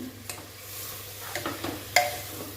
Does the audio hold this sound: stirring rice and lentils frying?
yes